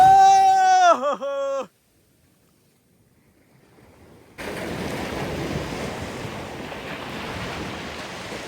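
Sea waves at the shore come in as a broad, steady wash with wind buffeting the microphone. A brief tonal, cry-like sound and a short silence come first.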